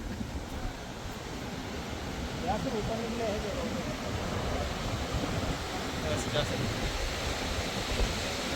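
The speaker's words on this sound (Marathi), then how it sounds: "उत्तर काशीची गंगा नदी बघा" The Ganges river at Uttarkashi flows steadily without a break, a constant broadband roar, with a faint voice briefly audible in the middle.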